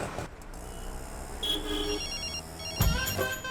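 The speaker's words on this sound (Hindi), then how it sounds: "फिर से फोन कर रही है" A telephone rings in short electronic bursts, fairly faint, with some background noise and a brief low thump near the end.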